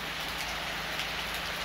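Rain falling in sunshine in Murree, a steady dense hiss of drops pattering on surfaces, constant and fairly close with no talk.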